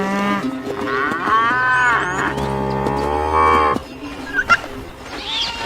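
Cattle lowing at a riverbank where herders gather with their livestock and wild animals, long drawn-out moos overlapping in a loud, close chorus that ends abruptly with a few shorter calls after.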